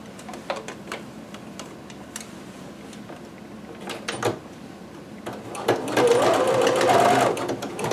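A sewing machine stitching large kimono pieces runs in short rattling bursts broken by clicks and handling of fabric, then settles into a louder continuous whirring run near the end.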